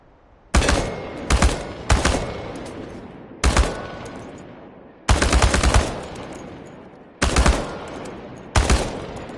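Automatic gunfire at tin cans in the game Chernobylite, six sharp bursts of rapid shots at intervals, each with a ringing decay, loud and close with no talking.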